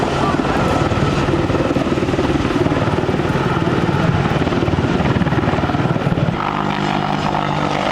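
AH-64 Apache attack helicopter flying sideways at a military air show at Quonset ANGB, a loud steady rotor and engine roar that dips slightly near the end.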